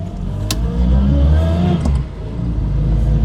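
Interior engine drone of a Reliant Fox driving on the road, a steady low rumble and whir with a slight rise in revs, loud and continuous, with a couple of brief knocks.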